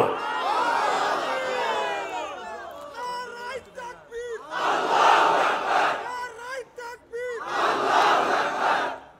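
Large crowd at an Islamic religious sermon (waz) loudly chanting takbir in unison, three long swelling shouts of many voices with brief quieter gaps between them.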